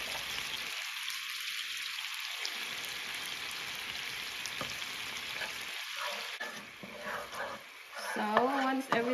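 Hardened sugar melts and sizzles in a pan with tamarind juice, a steady close frying hiss with some stirring and clinking, briefly broken by quieter gaps.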